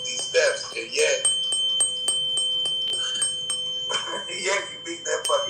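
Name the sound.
bell being rung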